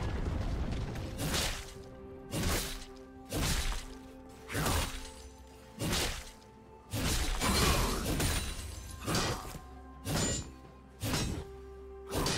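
Turret destruction in League of Legends, a top-lane match with Renekton against Graves, heard as a series of repeated crashing, shattering impacts about once a second. The bursts are loud and close, and nobody speaks.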